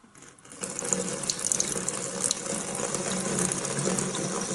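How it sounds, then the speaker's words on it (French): Water pouring from the spout of an Olvy 1.7L cordless electric kettle, likely into a bathtub, a continuous close splashing stream that starts after a brief pause and runs steadily to the end. "je vais verser pour purifier le bec verseur"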